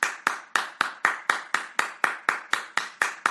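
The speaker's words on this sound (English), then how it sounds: "That slow clapping" Slow, even hand claps from a single person, about thirteen sharp claps spaced roughly a quarter second apart, close and dry with no other sound between them.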